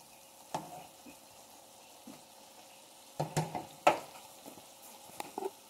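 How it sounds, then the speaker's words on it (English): Beef stroganoff simmers and sizzles softly in a pan, with quiet bubbling and a few louder clinks and stirring knocks scattered through. "Now we're just going to let this simmer for a while."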